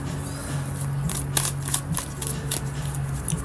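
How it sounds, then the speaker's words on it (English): Tarot cards shuffled by hand in a quiet room, a run of soft riffling flutters and light slaps repeating through the whole stretch over a steady low hum. "One more shuffle."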